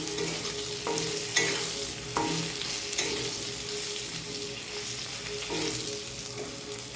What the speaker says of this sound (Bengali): এবার আমি পুরো সবজিটাকে কষিয়ে নেব একটু মশলার সঙ্গে